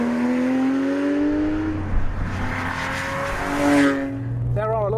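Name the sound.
Porsche 911 GT3 engine revving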